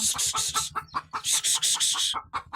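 Chickens cluck and squawk close by on a goat farm, a rapid run of sharp, bright bursts with short pauses and a low steady hum underneath.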